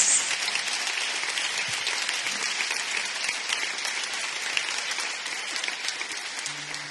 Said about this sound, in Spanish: voldria demanar aquest fortíssim aplaudiment per a la producció Infinity Eventos i Producciones